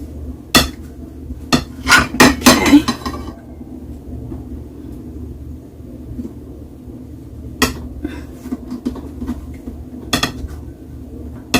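Several sharp knife taps and clatters against a cutting board while cutting cheese, a quick burst early and a few scattered hits later, close and fairly loud.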